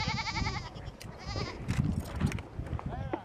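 Sheep on a village livestock farm in Turkey bleat in drawn-out wavering calls, one loud and close at the start and others scattered after, mixed with people talking nearby.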